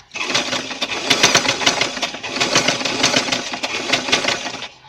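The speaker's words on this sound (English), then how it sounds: "if you have the designer sewing machine like this" Sewing machine stitching stretch fabric, a fast continuous mechanical chatter of needle strokes running steadily for several seconds, close and loud, then stopping abruptly.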